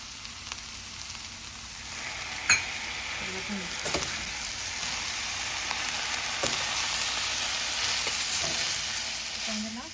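Vegetable fried rice seasoned with salt and rice vinegar is stir-fried on a gas stove, giving a steady close sizzle with scattered scrapes and clinks of the spatula, and no voices.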